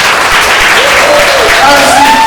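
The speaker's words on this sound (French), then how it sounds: "Tonnerre d'applaudissements." A conference audience at a voice actors' panel bursts into loud, dense applause, sustained throughout with a few faint cheers rising over the clapping.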